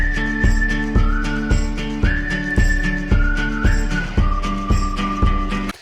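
A clear whistled melody rides over a song with a steady thumping beat, bright sustained notes sliding between pitches, loud and upfront.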